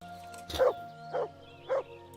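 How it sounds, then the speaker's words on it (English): Mutt, a dog in Kingdom Come: Deliverance, barks at a rabbit with three short, sharp barks spaced about half a second apart, loud and close against a faint, steady game background hum. "Hey, stop barking at the rabbit."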